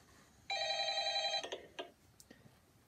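A telephone rings once with a bright, sustained bell-like tone of about a second, followed by a few faint clicks and knocks against a quiet background.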